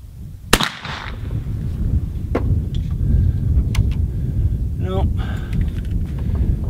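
A .58 caliber muzzleloader rifle fired at a target at a muzzleloading range, one sharp loud report near the start, followed by outdoor wind and rumbling background noise with a few fainter cracks and distant sounds.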